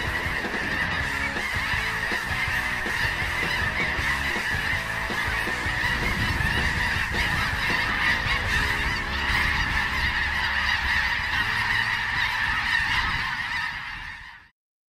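A large flock of snow geese honks continuously during a North Dakota goose hunt, a loud, dense, overlapping chorus of calls that holds steady throughout before cutting off abruptly at the end.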